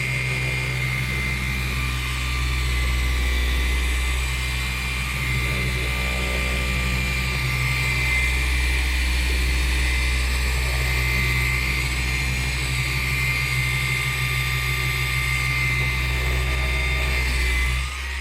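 A machine polisher cutting and polishing car paint whirs with a loud, steady, droning hum that holds constant throughout without a break.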